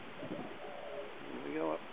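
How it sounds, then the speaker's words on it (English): Doves coo in soft, low, rolling calls close by, partly mixed with a voice in a muffled, narrow-band recording. "And then there's a little dove. And then there's some doves coming, they're all waiting."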